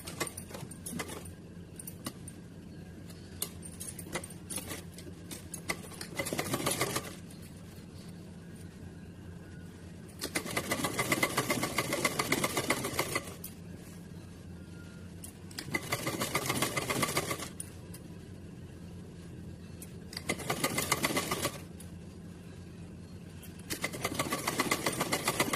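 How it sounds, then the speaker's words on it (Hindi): A sewing machine stitches lace onto a dress made as an outfit for a Radha Rani idol, running in several distinct bursts of steady mechanical whirring with quieter pauses between them. "चलिए पूरे पे सिलते हैं। अब यहाँ कोने पे हम लॉक करके चलेंगे।"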